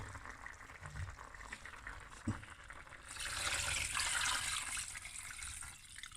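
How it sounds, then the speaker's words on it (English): Water pours steadily into a pot of cooking goat meat for curry goat, a broad rushing splash that swells after a few seconds and keeps running, with a small clatter early on. "So now we're going to add water."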